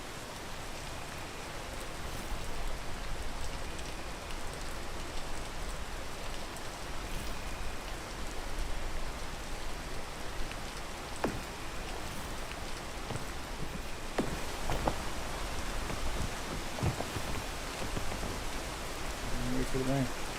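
Steady rain in the climbing game PEAK, a dense even hiss of falling water filling the whole stretch, with a few soft thuds and scrapes and someone talking briefly near the end.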